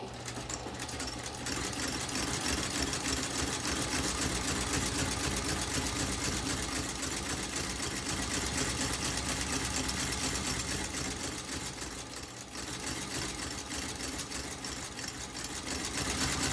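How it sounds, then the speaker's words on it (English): A loud sole-stitching machine sews new soles onto Tony Lama cowboy boots, running continuously at a steady, rapid mechanical rhythm for the whole stretch, close up and with no talk. "So we're gonna stitch these on."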